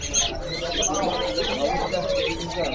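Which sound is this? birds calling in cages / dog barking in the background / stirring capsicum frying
birds calling in cages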